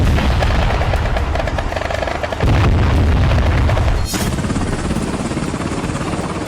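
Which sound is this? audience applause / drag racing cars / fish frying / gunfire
gunfire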